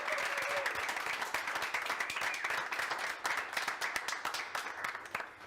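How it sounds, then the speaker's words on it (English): An audience at a leadership race results show claps in a steady round of applause for a candidate, dense and continuous before tapering slightly toward the end, with no one speaking. "let's have a round of applause for Oluyemi"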